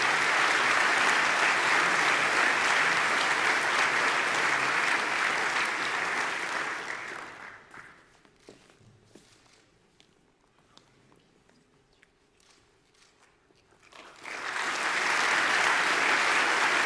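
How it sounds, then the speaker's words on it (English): An audience claps at an academic year opening award ceremony, loud sustained applause that drops to near quiet with faint footsteps and shuffling, then swells again just as strongly. "You can applaud"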